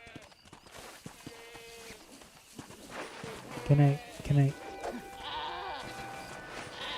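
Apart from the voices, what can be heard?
goat bleating in Red Dead Redemption video game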